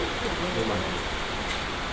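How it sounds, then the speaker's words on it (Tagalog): Steady rain pours down outside a village barangay office, a dense, even hiss of falling water that stays close and constant throughout, with no other sounds standing out. "Araw-araw naman umuulan dito."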